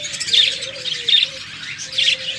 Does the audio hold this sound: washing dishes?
no